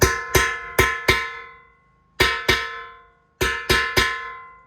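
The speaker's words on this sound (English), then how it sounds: "you'll hear the pitch change when the race contacts the little seat that's machined into the frame" A steering bearing race is driven into a motorcycle frame with a hammer: sharp metallic strikes ring out in clusters of two and three, each a bright, bell-like ting that decays quickly, close and loud with no voices.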